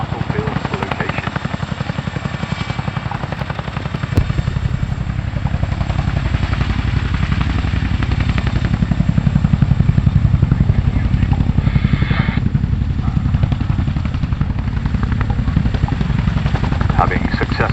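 A Chinook twin-rotor helicopter manoeuvres low at an air display, its rotors producing a loud, continuous rapid thudding beat close by, steady throughout with a slight swell midway.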